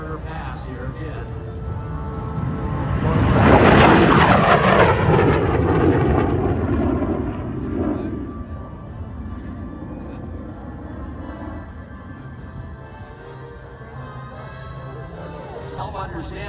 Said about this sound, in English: Here we go, folks, an afterburner pass here again.